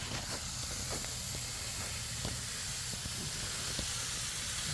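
Steady broadband hiss of an irrigation hose spraying water under pressure, continuous throughout with a few faint ticks and knocks, fairly close.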